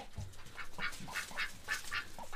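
Farm ducks quack in a steady run of short nasal calls, close and fairly quiet, with several birds overlapping and no talk.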